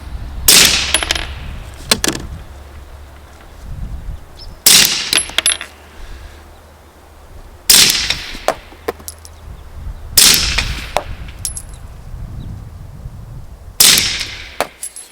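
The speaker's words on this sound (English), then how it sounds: "I'm going to put 5 rounds into that little 1-inch square" CMMG Zeroed handgun with a Trijicon RMR Type 2 sight, fired from a bench rest at a target: five sharp, loud shots spaced a few seconds apart outdoors, with quiet gaps between them.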